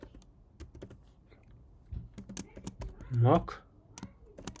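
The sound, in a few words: typing code on a computer keyboard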